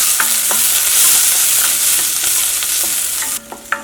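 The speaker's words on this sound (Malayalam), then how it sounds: "ഇനി നന്നായിട്ടൊന്ന് വഴന്ന് വരട്ടെ." Onions sauté in coconut oil in a loud, constant hissing sizzle, with light stirring clicks and taps throughout and a clunk of the pan near the end; no one speaks.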